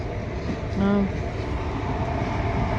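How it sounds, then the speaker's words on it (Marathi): A train rumbles at a station amid steady crowd and platform noise, with a brief low horn-like tone rising briefly above the din. "फायनली आपली ट्रेन आलेली आहे"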